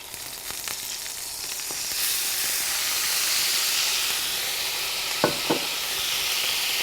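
Balsamic vinegar poured in glugs into lightly browned melted butter in a pan bursts into a loud, steady sizzle and hiss that holds throughout, with a couple of brief sharp clicks near the end and no talking.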